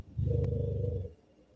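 A dog growls low and continuously close to the microphone behind a person, one rumbling growl of about a second that then fades out, with no talking over it.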